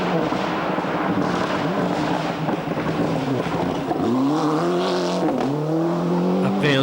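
Rally cars racing at the 1996 Rally of Australia, engines revving hard with rising and falling pitch as they accelerate and shift, loud and close, with a commentator talking over them.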